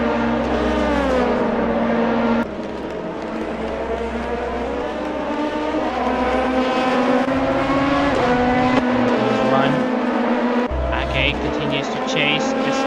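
Race cars lap Motegi in an online sim racing endurance event, engines droning and rising and falling through gear changes close up, with another car passing, under continuous commentary.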